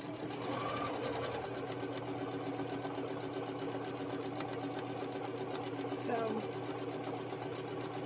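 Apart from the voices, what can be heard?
sewing machine stitching quilt fabric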